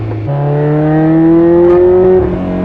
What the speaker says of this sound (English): It just crossed over to VTEC.